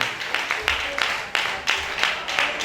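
A French audience at a season four semi-final results show claps in bursts, the applause swelling and fading several times in quick waves with a faint tonal background.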